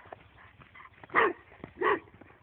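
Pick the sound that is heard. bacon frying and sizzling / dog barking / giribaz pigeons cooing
dog barking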